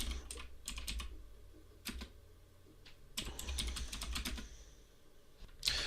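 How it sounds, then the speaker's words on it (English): Someone types a short Linux terminal command on a computer keyboard, giving quick bursts of close, light key clicks with brief pauses between them and no talking. "So I'm going to type kvm-ok."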